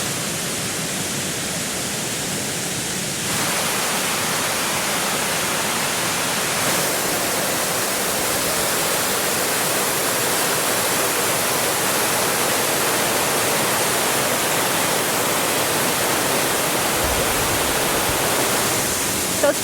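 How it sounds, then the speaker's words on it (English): Steady, loud rushing of a waterfall near a bushcraft camp on a hill, a continuous broadband roar filling the whole stretch with no talking. "the lovely sound of the waterfall in the background"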